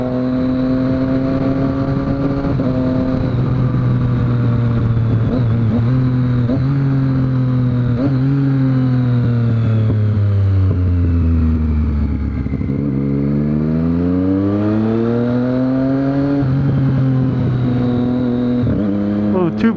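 A 2013 Triumph Street Triple R motorcycle with its catalytic converter removed idles and revs loudly up close, its engine pitch swooping down and back up over nearly twenty seconds in one continuous throaty drone.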